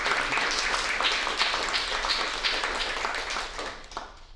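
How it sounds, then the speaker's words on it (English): Audience applause at a young scientist research prize event, after a presentation. A full, even burst of many hands clapping, fairly close and loud, holding steady for about four seconds before starting to fade. "Round of applause"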